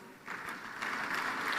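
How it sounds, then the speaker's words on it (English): Faint, thin clapping from delegates at an African energy summit greeting visiting ministers, building slightly within a short burst at low volume. "let's give them a round of applause."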